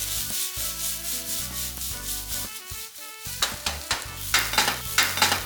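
Sweet corn stir-fried with sliced onions and spring onions in a pan gives a steady hiss of frying, with rhythmic scraping and tossing strokes growing sharper toward the end, close by and without voices.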